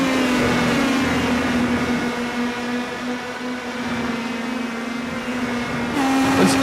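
Race car engines at Laguna Seca in the iRacing simulator drone in a steady, loud, high tone. The pitch shifts slightly and swells again near the end as the cars come off a corner.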